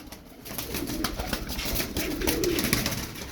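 Sarı Kır game pigeons coo steadily in a low, continuous rumble, several birds close by calling over one another without pause.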